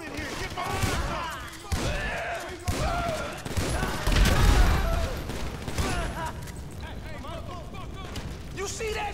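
Gunfire in GTA V: several sharp shots and bursts ring out at intervals amid game ambience, fairly loud and close, with someone speaking over them.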